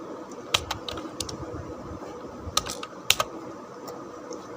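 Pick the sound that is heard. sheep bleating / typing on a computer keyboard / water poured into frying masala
typing on a computer keyboard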